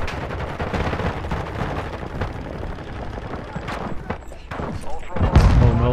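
Bursts of gunfire and sniper shots in the Call of Duty DMZ video game crackle irregularly at varying distances, with excited players talking over the shooting.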